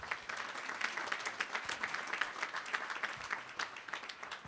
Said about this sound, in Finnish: kiitoksia tästä ja aplodit saa antaa jälleen.